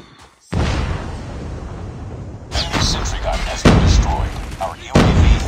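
A frag grenade blast in Call of Duty Mobile, a sudden loud boom that decays into a rumbling tail, followed by further sharp bursts of gunfire and impacts in a busy multiplayer firefight.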